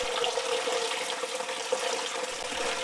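Water pouring steadily into a jellyfish tank, a constant close splashing wash that runs unbroken with no talk.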